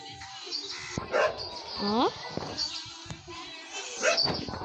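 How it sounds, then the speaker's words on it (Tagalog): A dog whines and yelps in short bursts amid a noisy room, with people talking over it throughout. "Umingi lang yung aso."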